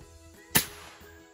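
A single sharp crack from a Sumatra air rifle fired over a chronograph, loud and close, with a brief ringing tail and no talk.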